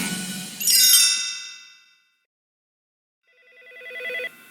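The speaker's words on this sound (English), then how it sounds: "A few minutes later, the phone rang." A telephone rings in an animated cartoon story: a bright ringing chime fades out, then after a short silence a second trilling ring rises, clear and close, with no speech.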